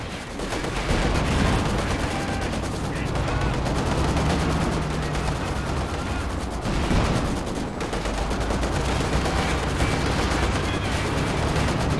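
A Nebelwerfer rocket artillery barrage in Company of Heroes 2 pounds continuously, dense overlapping blasts and gunfire-like cracks forming a loud, sustained din with a couple of heavier impacts.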